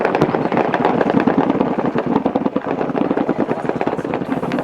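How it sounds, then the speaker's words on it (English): Rapid, dense bursts of cracking gunfire and booming blasts from a battle, heard from a bunker on a United Nations base, roll on continuously, loud and sustained with no pauses. "We heard the battle from a bunker on the United Nations base."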